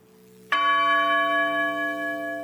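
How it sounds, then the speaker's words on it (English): A church bell rings at a 9/11 twentieth-anniversary memorial, struck once and then ringing on with a long, slowly fading tone. "And the bells rang at Shanksville in Pennsylvania too"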